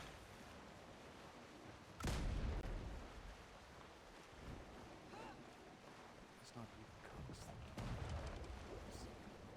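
Naval-battle game mortars fire and land, one heavy boom followed by rumbling impacts and further thuds over a constant roar of water and wind, with voices talking underneath.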